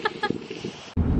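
Chickens outdoors in Tampa squawking to each other, a couple of short loud clucking calls followed by a harsher burst of noise, close and brief.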